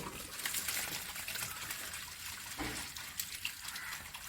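Water runs from the tap of a natural water filter in a soft, steady, continuous flow with a light trickling texture, heard close with no talking.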